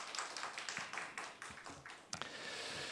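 A church congregation at a Sabbath service applauding to welcome a newcomer, with light scattered clapping that sounds thin and somewhat distant, lasting the short moment.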